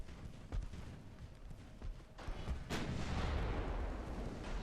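Naval guns firing in Ultimate Admiral: Dreadnoughts, a few heavy booms with a big blast near the middle, followed by a rolling, continuous rumble of battle.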